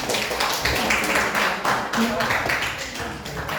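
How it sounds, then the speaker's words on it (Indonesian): Students in a classroom at a senior high school clap together at the close of a lesson. The clapping is uneven, comes in bursts, and is mixed with some voices. "Tepuk tangan untuk kita semua."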